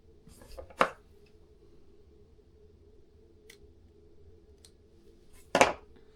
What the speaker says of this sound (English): then cut that tag end off